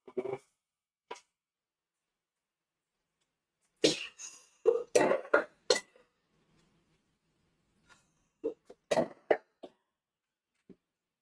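A person coughs several times in short, close bursts, the coughs grouped in clusters separated by quiet pauses.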